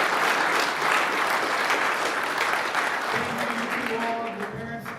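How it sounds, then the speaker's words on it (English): Audience applause fills the clip, a dense steady clatter of many hands that tapers slightly toward the end. "Can we give them a round of applause?"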